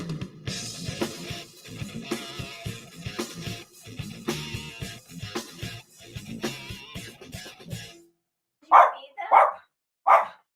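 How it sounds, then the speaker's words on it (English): Three loud, sharp dog barks ring out close by after a stretch of talk, evenly spaced and alone once the voices stop. "the dogs are still barking"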